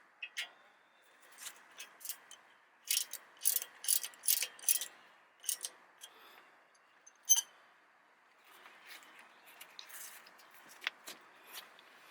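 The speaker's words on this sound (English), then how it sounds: "Torque those down to 110 foot-pounds." A wrench torquing the wheel bearing bracket bolts on a 2007 Ford Explorer all-wheel drive, with soft, close ratcheting clicks in short irregular bursts and pauses.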